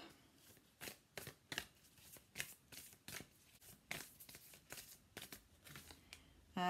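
Tarot cards are shuffled and drawn in a quiet room, with rapid, soft papery riffles and flicks in irregular bursts, close and faint, with no talking.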